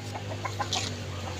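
High-action breed chickens cluck in a short series of quick, moderately close notes over a low steady hum, with no talk.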